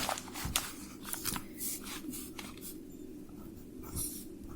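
A pen scratches steadily on paper as someone works out an arithmetic solution. The strokes are faint and come in short bursts, and the quiet room is otherwise still.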